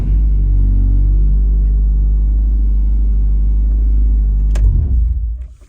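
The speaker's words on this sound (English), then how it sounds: "So I'll turn on the car, make sure the cluster's working properly" A Honda CB7 Accord engine idles with a deep, steady low hum and rumble, then shuts off near the end as the sound drops away, with no talking.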